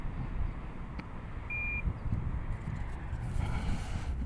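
A single short, thin electronic tone sounds from an RC transmitter's timer, faint against a steady hiss of background noise, with no other distinct events around it.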